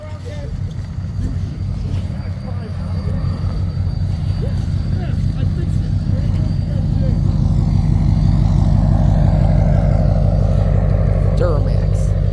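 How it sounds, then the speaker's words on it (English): A pickup truck engine roars in snow while towing another stuck truck, a loud sustained drone that builds steadily in strength, with people talking over it. "Pulling him now. He's yanking on his truck."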